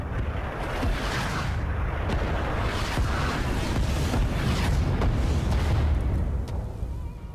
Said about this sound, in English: Napalm!